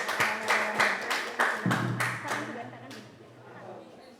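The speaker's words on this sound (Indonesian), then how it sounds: "Kasih tepuk tangan dulu buat kandidat nomor 1." An audience at a junior high school student council election debate in Pekanbaru claps in a rhythmic group pattern, a run of even, close bursts that slowly thin and fade, with a voice faintly underneath.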